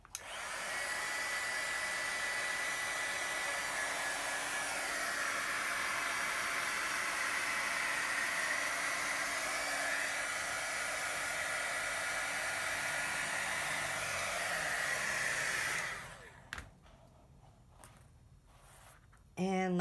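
A heat gun melts heat-shrink tubing over a wire connection on a miniature church model, a loud, steady blowing roar for about sixteen seconds that then shuts off, leaving faint handling noises.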